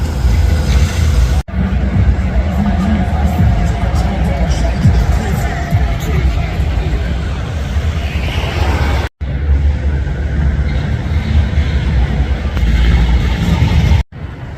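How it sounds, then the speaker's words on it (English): A tram rumbles past at close range, a steady low roar with rattling and rolling noise lasting most of the clip, with street chatter around it. "That's a tram passing behind me."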